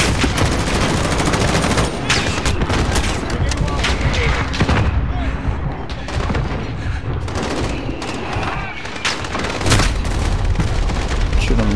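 Dense, rapid gunfire from the video game Call of Duty Modern Warfare, loud bursts and booming shots crowding together almost without pause for the whole stretch.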